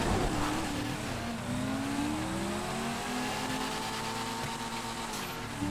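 Jester car engine racing in GTA V, a sustained revving drone with slowly rising and falling pitch, loud and continuous throughout.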